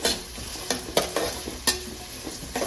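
Small onions frying in hot oil in a pan: a continuous sizzle broken by several sharp scrapes and clacks of a stirring spoon against the pan, close and fairly loud, with no talking.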